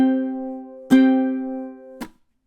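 A ukulele plays measure 15 of a song: a sustained strummed chord rings out, then two sharp percussive strums follow about a second apart, the last one choked off quickly.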